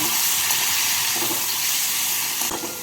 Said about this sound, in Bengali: টমেটোটাকে তেলের মধ্যে ভেজে নেব